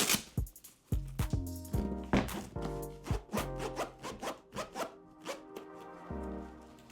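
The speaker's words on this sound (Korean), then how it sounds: "이 안전화 끈을 아무리 꽉 묶어도 이 지퍼 때문에 신고 벗기가 너무 편합니다." A zipper on the inner side of a safety work shoe is pulled repeatedly in close, crisp rasping strokes of varying length, some quick and some drawn out, with no talk.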